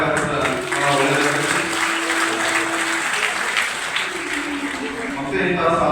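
Audience clapping for student achievers at a felicitation ceremony in a community hall, a steady crowd applause mixed with background tones and some voices throughout.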